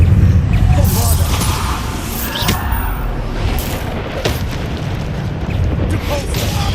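Bombarda spell blasts in the Hogwarts Legacy video game, deep booming explosions with rumbling bursts in rapid succession amid combat noise, with a voice shouting spell names over them.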